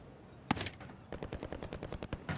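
Bursts of automatic gunfire in an online shooter match, a sharp shot followed by a rapid rattling string of rounds with uneven spacing, fairly close and loud, no talk over it.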